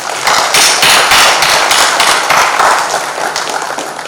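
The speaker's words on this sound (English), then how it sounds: "A big applause to all of us." Audience at a BIET 1995 alumni gathering bursts into dense, sustained applause, many hands clapping loudly and evenly for about four seconds with no voices over it.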